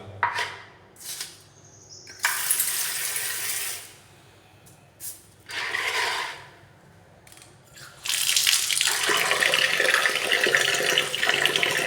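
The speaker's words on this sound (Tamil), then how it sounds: "திருப்பி கொஞ்சம் தண்ணியை விட்டு நம்ம கலக்கிறோம்" Water is poured into fermented old cooked rice mixed with turmeric and asafoetida and worked by hand, giving intermittent wet splashes and squelches that turn into steady, close sloshing toward the end.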